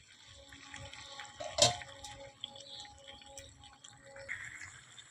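Hot water poured into a pot of mutton curry being cooked with potatoes, a brief splashing burst over a steady background of faint kitchen noise, with a few small liquid sounds afterward.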